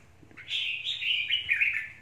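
A red-whiskered bulbul (chào mào) from the limestone mountains of Lạng Sơn sings a bright, continuous warbling phrase lasting over a second, close and clear against a quiet background.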